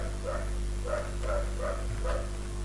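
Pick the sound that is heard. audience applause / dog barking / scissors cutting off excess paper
dog barking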